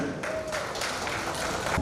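An audience at an entrepreneurship and excellence awards ceremony in Jabalpur breaks into a dense, continuous burst of applause, loud and close, filling the whole moment.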